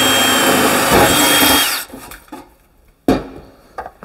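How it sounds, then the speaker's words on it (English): A power drill with an HSS bit runs loudly and steadily as it cuts through steel trunking, then stops, followed by a few short bursts and clunks. "this is easier to just drill straight through"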